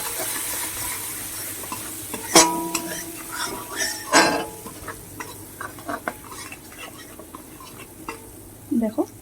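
Bread upma spice masala being stirred in a pan, with a few sharp scrapes and clinks of the utensil against the metal over a low, steady sizzle, close and mostly moderate in level.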